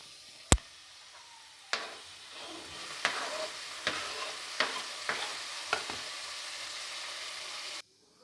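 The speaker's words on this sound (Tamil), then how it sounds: "அதையும் போட்டு வதக்கிக்கலாம்." Chopped tomatoes with mint and coriander sauté in a pan for a quail gravy, hissing quietly. Sharp spatula clanks break the sizzle every second or so, and it cuts off abruptly near the end.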